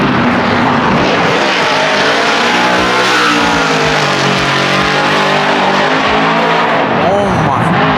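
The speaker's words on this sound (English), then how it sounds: "They're so good at drifting, like it's crazy." Drift cars at Formula Drift 2023 in Long Beach roar past with screaming engines, rising and falling revs and tire squeal, loud and close, filling the whole stretch without letup.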